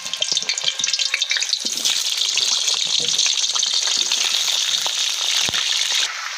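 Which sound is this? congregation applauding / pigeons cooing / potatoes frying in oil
potatoes frying in oil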